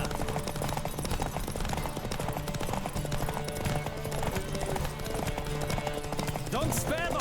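Rapid hoofbeats of a galloping horse in The Witcher 3 clatter steadily under music and game sounds, with a brief whinny near the end.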